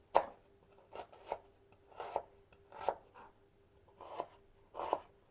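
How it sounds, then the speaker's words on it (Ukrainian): Two small onions are chopped finely with a knife on a board, giving a slow series of about nine crisp, close chops at roughly half-second intervals with quiet pauses between. "Цибулю буду нарізати."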